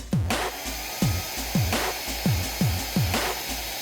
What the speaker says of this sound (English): Let's test it with the hairdryer.